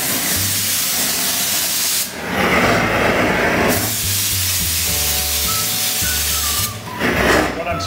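Bursts of hissing spray onto nails come and go in several pulses over a steady low mechanical hum.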